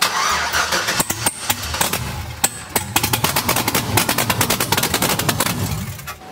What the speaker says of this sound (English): I'm going to try my best to hopefully do the first startup on the truck with the twin turbos